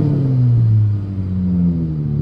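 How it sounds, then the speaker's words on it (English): A V6 Chrysler 300 with an aftermarket exhaust gives off a deep, steady rumble, and its pitch climbs and dips slightly as the engine revs. It is close and loud, with no talking. "Number 2 is going to be the exhaust. I love a good sounding exhaust."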